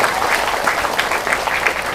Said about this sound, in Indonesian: Tepuk tangan untuk Bapak Kepala Desa.